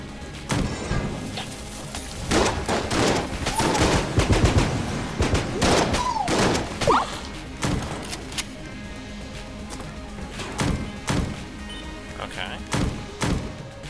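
Repeated heavy gunshots from a shotgun in Enter the Gungeon, spaced blasts with thuds and impacts over game music, while a player talks over the action.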